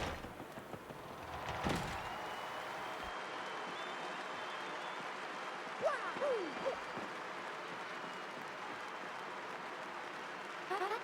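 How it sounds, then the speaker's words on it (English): Crowd cheering fills a Glitz Pit arena in Paper Mario: The Thousand-Year Door, a steady roar of applause that swells around two seconds in, with a few brief swooping effect tones partway through. "The crowd is going wild for Gonzalez"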